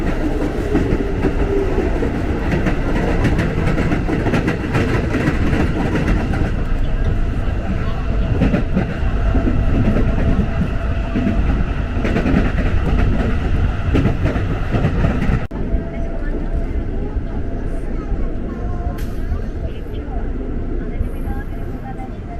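A KRL commuter electric train, a TM 6000 series unit bound for Nambo, rolls along the rails with a steady loud rumble and rhythmic clacking wheels, and a voice talks intermittently over it.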